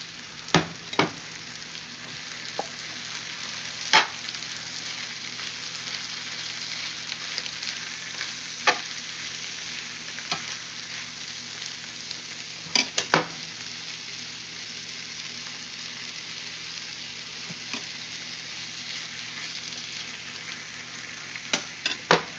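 Steak sizzles steadily in a hot pan alongside onions for a cheesesteak, a dense continuous frying hiss with occasional sharp pops and spatula clicks throughout.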